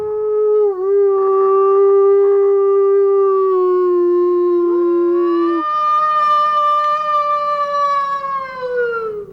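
A person imitates a wolf howl outdoors at a camp in Idaho, sustaining long wavering tones that slide in pitch and rise into a higher, eerie final howl, loud and near, alone.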